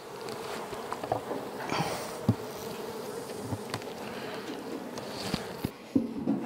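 Honeybees buzzing around an open hive colony during autumn feeding, a steady close insect drone with wingbeats swelling and passing near, plus a few faint knocks and handling sounds.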